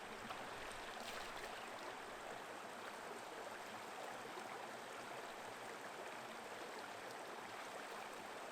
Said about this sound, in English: It was so peaceful next to this brook